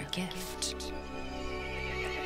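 Loud, close horse neigh in the Resident Evil Village video game, a shrill whinny with faint hoof clip-clop beneath, overlapping a brief spoken word at the start.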